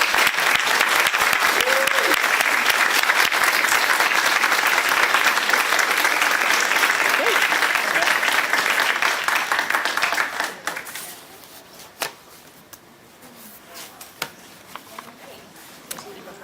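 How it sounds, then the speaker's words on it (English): An audience at a Board of Education candidate forum gives the candidates a full round of applause, dense sustained clapping that holds strong for about ten seconds, then thins out to scattered claps and quiet room noise. "Please join me now in a round of applause for all of our candidates"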